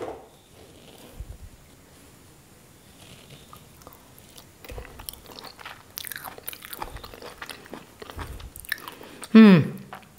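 Crunchy salad being chewed and bitten in close, irregular crunches that grow busier toward the end, with a short voice sound near the close.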